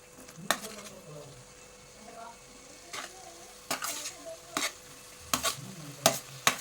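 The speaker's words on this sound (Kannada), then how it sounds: "ಇವಾಗ ನಾನು ಹಲಸಿನಕಾಯಿ ಬೇಯಿಸಿದ್ನಲ್ಲ, ಅದನ್ನ ಹಾಕ್ತಾ ಇದ್ದೇನೆ ನೋಡಿ." Boiled raw jackfruit tipped into a sizzling tempering and stirred, with sharp spoon scrapes and clinks against the pan over a continuous crackling fry, all close and fairly loud.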